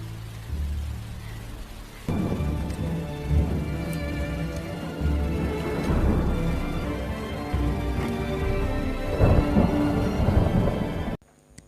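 Heavy night rain pours steadily with rolling thunder in a dark film scene, a quiet low rumble at first, then a louder dense downpour from about two seconds with deep thunder swells, cutting off abruptly at the end.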